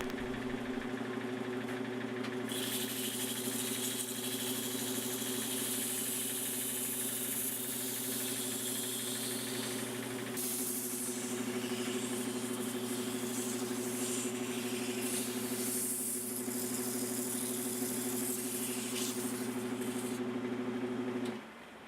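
A wood lathe spins a flowerform vase held on a jam chuck, giving a steady, even motor hum with a constant drone and no pauses.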